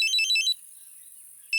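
A phone ringtone from a Hindi crime web series plays as a bright electronic melody for about half a second, then breaks off into silence before starting again briefly at the end.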